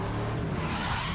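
Car engine and tyres skidding in The Crew 2 racing game, a steady loud roar with a broad hissing screech throughout the brief moment, no voices.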